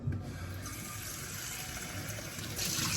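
Warm water being poured for a homemade meatloaf, a steady, close liquid rush running throughout with a slight surge near the end.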